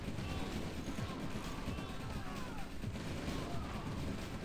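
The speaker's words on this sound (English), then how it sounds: "Maybe artillery war going on." Artillery fire in a video game battle, a dense, steady barrage of overlapping shots and rumbling impacts that fills the whole stretch at an even, loud level.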